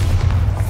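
Bombarda blasting spell in Hogwarts Legacy, a short, heavy low boom with a dense rumbling body, loud and close, heard alone.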